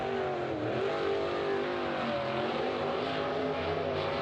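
The number 17 race car rolls out during the 3rd Annual All American event, its engine a steady, loud drone with slight pitch swells, continuous and close, with no talk.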